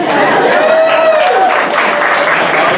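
An audience at an improv comedy show applauds warmly, a dense, steady wash of clapping that holds at full volume throughout, with a host's voice briefly over it.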